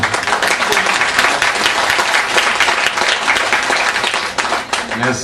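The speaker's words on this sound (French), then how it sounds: "Merci pour vos applaudissements" Meeting audience applauding at the close of a political gathering, dense steady clapping filling the room throughout, loud and continuous with no pauses.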